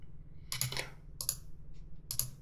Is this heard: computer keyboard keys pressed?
yes